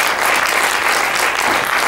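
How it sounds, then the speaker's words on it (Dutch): Applause from an audience at an award event, a steady burst of clapping heard alone throughout the short stretch. "Groot applaus voor Claudia."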